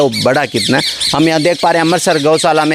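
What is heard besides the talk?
birds chirping at a cow shelter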